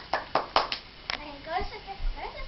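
A 10-month-old baby girl claps her hands a few times in quick, soft slaps, close by, followed by a child's babbling and adult talk.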